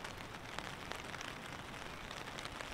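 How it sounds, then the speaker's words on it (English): Rain patters on a tarp at a rainy campsite, a faint, soft, continuous spatter with scattered brighter drop hits throughout, no voices. "Some beautiful pitter-pattering on the tarp right now"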